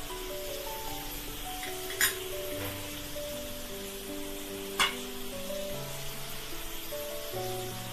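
Masala sizzling in hot oil for shahi paneer, a steady close crackle and hiss with two sharp spoon clinks against the pan.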